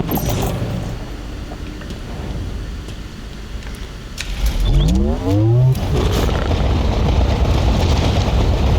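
A Scorpion tank driving in Halo Infinite, with a continuous low mechanical rumble and creaking treads, then a rising engine whine partway through, close and loud, with no talking.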